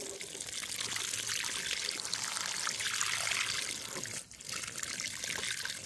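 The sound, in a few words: water poured onto food scraps in a container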